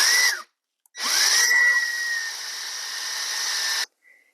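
A power drill cuts into a torso to hollow it out, whining steadily in two bursts separated by a short silence, the second run long and sustained with a slight drop in pitch as the bit bites in.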